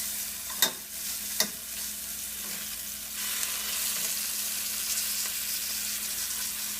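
A pork chop sizzles in a hot pan after being flipped with a fork, browned on one side; two sharp clatters come first, then a steady close hiss of frying continues alone.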